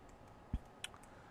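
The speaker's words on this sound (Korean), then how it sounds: "자, 이렇게 버튼을 누르고" Nikon Z9 camera buttons being pressed: one soft low thump followed by a couple of faint, quick clicks, close and quiet with no talking.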